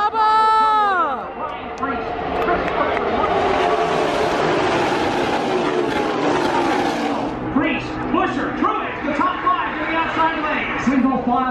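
NASCAR race cars roar past at Talladega Superspeedway, pitch sweeping down as the pack passes. A dense, sustained wall of engine noise follows, with a crowd cheering loudly and a commentator speaking over it.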